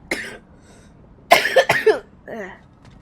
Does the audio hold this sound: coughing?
yes